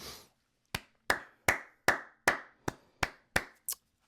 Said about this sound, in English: I gotta clap it up like I always do.